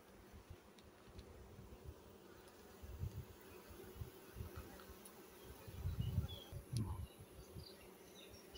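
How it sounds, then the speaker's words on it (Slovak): Honeybees hum around an open beehive, a low, fairly faint buzz with individual bees swelling louder as they pass close, no talking. "Včiel je dosť."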